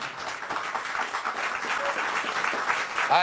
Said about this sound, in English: You are applauding a very bad idea.